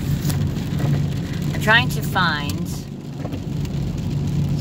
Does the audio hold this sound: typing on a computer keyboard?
no